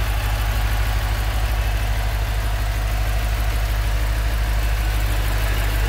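A 3.5-litre car engine idles steadily, a low, even rumble with a faint knocking pulse holding constant and fairly close throughout, no voices.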